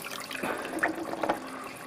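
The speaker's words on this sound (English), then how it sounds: "And we'll just put some water in that." Water poured into a pot of rice with clove and cardamom for lamb biryani, a soft splashing, trickling pour lasting a couple of seconds at close range.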